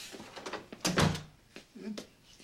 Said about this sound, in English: Would you please close the door behind you?